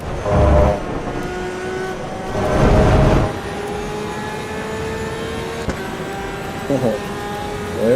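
A race car in the racing game Assetto Corsa EVO roars past, its engine note rising and sweeping through a couple of loud surges over a steady background engine drone.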